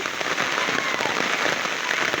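Steady rain patters densely on a surface, a constant hiss of drops with no voices.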